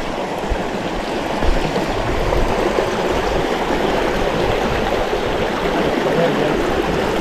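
River water flows steadily and close on the Quezalapa River, a broad continuous rushing wash that holds even for the whole stretch, with no talk over it.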